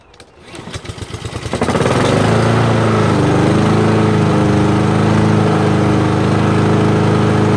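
A lawn mower engine starts with rapid sputtering pulses, then settles into a loud, steady roar while mowing a lawn, close by and continuous.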